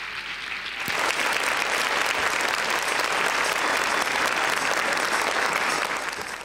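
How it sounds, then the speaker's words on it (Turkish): A packed audience bursts into steady, loud applause at a school reading award ceremony honoring class reading champions, starting abruptly after a brief quiet moment and holding dense and even to the end. "Alkışlıyoruz."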